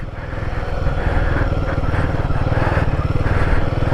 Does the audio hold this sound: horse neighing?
no